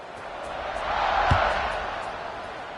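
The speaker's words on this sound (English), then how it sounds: "this crowd is buzzing after that last score" Stadium crowd at a football game buzzing steadily ahead of a kickoff, a broad continuous roar that swells slightly mid-clip with a brief sharper shout or thud near the middle.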